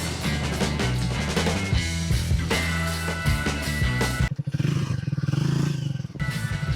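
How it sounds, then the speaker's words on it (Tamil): Triumph Speed T4 motorcycle exhaust, a loud steady engine drone that turns to a throbbing, pulsing burble near the end, with no talk over it. "அது வண்டி நிப்பாட்ட உங்களுக்கு எக்ஸாஸ்ட் சவுண்ட் காட்டுறா"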